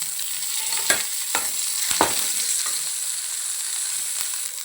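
Curry leaves and coriander being stirred into mango pulihora in a hot pan: a few scraping spoon strokes over a steady, bright sizzle, close and fairly quiet, with no voices.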